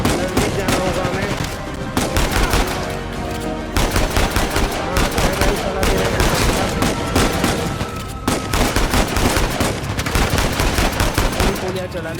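Rapid bursts of gunfire from the video game Uncharted 4: A Thief's End, loud and dense with repeated automatic volleys and shots stacked over game music and effects, nearly continuous throughout.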